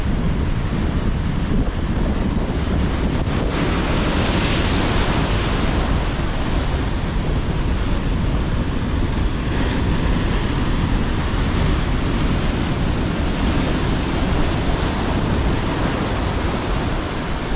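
Sea waves crashing on the shore during a stormy day of shore fishing for sea bass, a loud, steady roar of surf with gusty wind on the microphone, no speech.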